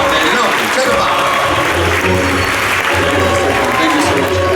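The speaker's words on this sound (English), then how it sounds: "10 round of applause for these two test subjects." A theme park magic show audience claps for two volunteers onstage, a full, continuous round of applause with crowd murmur and some voices mixed in.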